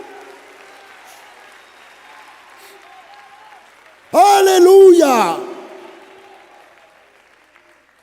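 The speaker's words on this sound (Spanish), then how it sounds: "Dele un aplauso de alabanza al Señor" Churchgoers at a Spanish-language evangelical service break into a short, loud burst of applause and shouts of praise, rising suddenly after quiet talk and fading within about two seconds.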